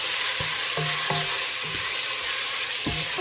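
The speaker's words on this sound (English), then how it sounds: "Just fry it a little bit inside the onion." Frying in a pan with onion for eru soup with beef makes a loud, continuous sizzle, broken by several low knocks and scrapes of stirring.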